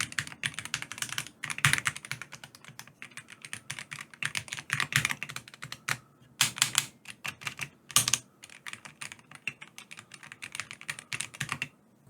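Mechanical keyboard, a Razer V3 Pro TKL, typed on in a sound test: dense, continuous clacking keystrokes close up, with bursts of louder presses and a few brief pauses, no voices.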